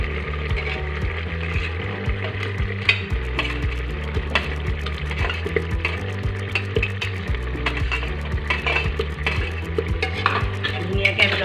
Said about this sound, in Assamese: ধুনীয়াকৈ আমি লৰাই দিম।